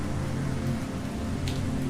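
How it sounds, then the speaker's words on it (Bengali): Steady, dense monsoon rainfall pours down at night on a tea garden in a constant broadband hiss, loud and unbroken throughout, with a faint rumble beneath. "বৃষ্টি পড়ছিল মুষলধারে"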